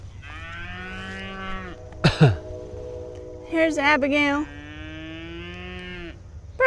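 Cows on a farm let out long, drawn-out moos, with two extended calls close by, a brief clatter between them, and people speaking briefly.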